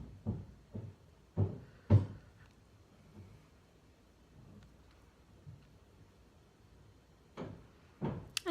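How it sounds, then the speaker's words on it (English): Irregular thuds and knocks from renovation work downstairs, a few heavy bangs in a cluster, then a quiet stretch before more pounding resumes. "if you can hear pounding in the background, we have renovations going on downstairs."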